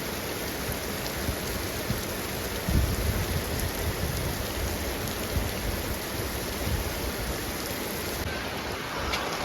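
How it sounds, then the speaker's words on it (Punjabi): Heavy rain pours down steadily and densely, a continuous hiss of drops striking surfaces close by, with no voices. "ਬਹੁਤ ਮੀਂਹ ਪੈ ਰਿਹਾ"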